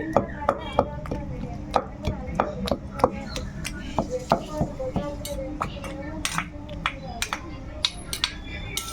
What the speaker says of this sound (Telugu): ఇలా దంచేసుకుందామండి